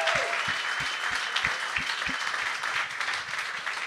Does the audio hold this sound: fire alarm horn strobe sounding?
no